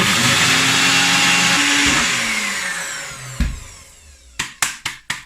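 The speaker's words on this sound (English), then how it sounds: "I'm going to just put in my NutriBullet small cup blender, and we're going to blitz it into powder" NutriBullet small cup blender grinding tiger nuts into powder, starting as a loud high whir that winds down over a few seconds, then a clunk and four sharp rattling pulses close by.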